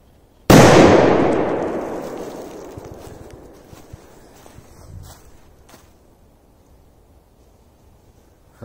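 A big firecracker exploding, one sudden loud blast with a long rolling echo that fades over several seconds, followed by faint scattered noises.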